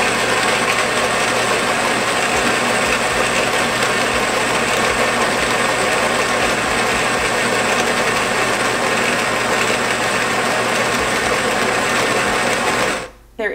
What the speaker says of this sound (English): It does come with this little piece that I simply attached that allows you to grind your espresso.